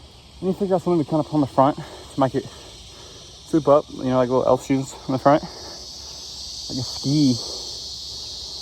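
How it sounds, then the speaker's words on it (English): Cicadas drone outdoors in a steady high buzz that runs continuously beneath someone talking near a garage. "Sorry for the cicada noise"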